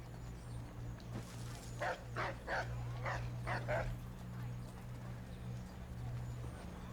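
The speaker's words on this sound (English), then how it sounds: "Oh, there's more than one dog." Dogs in Assassin's Creed III give a series of short, sharp barks in quick pairs and triplets, moderately close, over a constant low in-game hum.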